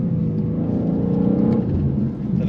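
A BMW M2 engine drones steadily at sustained revs as the car slides through a corner, a dense continuous whirring rumble with no talk.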